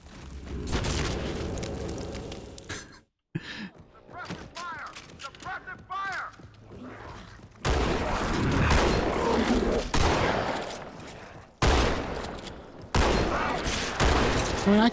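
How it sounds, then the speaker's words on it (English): Bursts of automatic gunfire and booming shots from a Halo 2 firefight, with loud sustained volleys broken by brief pauses, and a voice talking over parts of the action. "Suppressive fire."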